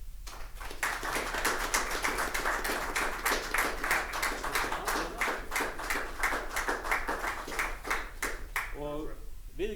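Audience applause at an Icelandic town council meeting for an award recipient, with steady dense clapping across the room that fades near the end as a voice begins speaking.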